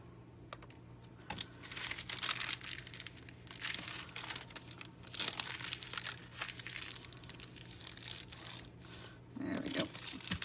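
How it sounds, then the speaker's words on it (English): Paper journal sheets being folded in half and turned over, with dry crinkling and rustling paper that comes in bursts throughout, fairly close and with no talk over it. "we're going to fold them in half"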